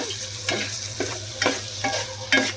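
Ridge gourd fry (potlakaya vepudu) cooking in oil in a pan, a soft continuous sizzle broken by regular stirring scrapes about every half second, close up with no speech.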